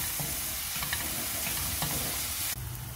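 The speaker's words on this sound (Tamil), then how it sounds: "வெங்காயம் நல்லா வதங்கட்டும்." Salted onions sauté in a pan, sizzling steadily and loudly with brief stirring scrapes throughout and a sharper burst of frying near the end.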